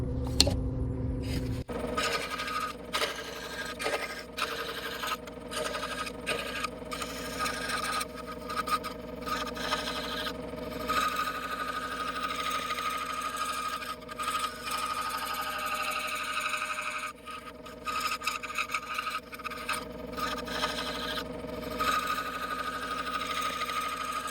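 A Hegner scroll saw cuts a curve along the edge of a wooden piece, its steady motor drone and rapid blade buzz running continuously and close, with brief dips where the cut pauses.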